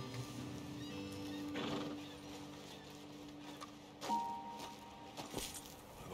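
Horses in Red Dead Redemption 2 whinny and clop their hooves at close range, with a faint jingle of tack and a gravelly outdoor ambience behind them.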